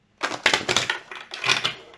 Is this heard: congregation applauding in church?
no